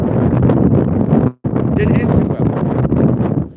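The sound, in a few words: wind blowing into the microphone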